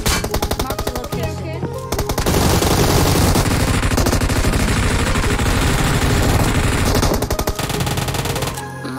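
Loud, rapid automatic gunfire from the PUBG Mobile battle royale game, sustained bursts of close shots with brief pauses, while players talk faintly over it.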